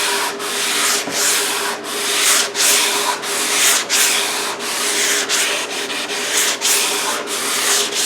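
A wooden kitchen table being gently hand-sanded with fine 320-grit sandpaper during refinishing, a close, steady rasping in long back-and-forth strokes with brief pauses between passes.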